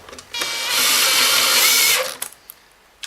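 A power drill tightens bolts on a Kirby Avalir vacuum tech drive in one close, loud whirring run of about a second and a half, followed by a few light clicks and knocks.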